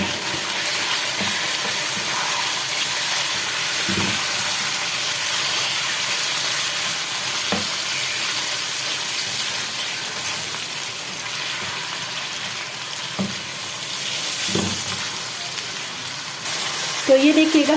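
Steady sizzling and hissing of chicken frying in a pan, with occasional stirring clinks and scrapes throughout.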